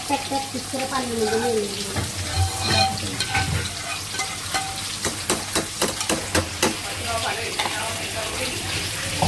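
Caramel cooking in a pan while a pudding is being made, giving a steady hiss and sizzle with scattered clinks and stirring scrapes, mixed with background voices and household noise.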